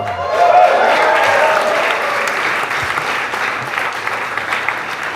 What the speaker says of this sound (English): I have a feeling there's going to be a lot of clapping today,